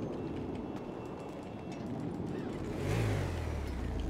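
A motorcycle engine in GTA V Online role-play revs up briefly near the end, swelling out of a steady murmur of game background noise.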